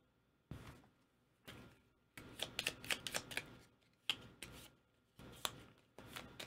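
Board game cards are shuffled by hand in several quick bursts of riffling and snapping, separated by short pauses, close and crisp with no talk.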